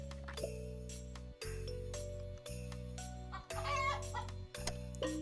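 Chickens clucking in the video game Terracards, short repeated fowl calls over a looping synth music bed with pulsing low tones.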